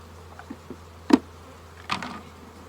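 Honeybees buzz as they are shaken off a brood frame during a hive split, heard as a low droning hum with a few sharp, brief bursts and thumps from the shaking, close and fairly quiet.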